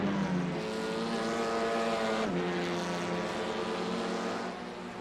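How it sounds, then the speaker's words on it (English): Race car engine in the iRacing simulator, ChampCar series at VIR North, screaming at high revs and bouncing off the rev limiter in a steady sustained drone with a brief stutter midway, loud and close throughout. "they don't like it so much when you pound it off the rev limiter like that"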